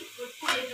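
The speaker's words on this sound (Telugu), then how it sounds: "ఇంకా ఆ ఫ్రాన్స్ని తీసుకొని ఈ గ్రేవీలో మిక్స్ చేసుకోవాలి" Masala-coated prawns are stirred into a curry gravy, giving a brief close scrape of the spoon and a quick burst of sizzling in the pan.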